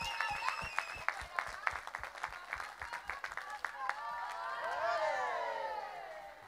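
Faint, sparse handclaps from a small crowd tap out in a loose rhythm at a Relay for Life charity event in Rixensart, fading as a distant voice and murmuring chatter take over.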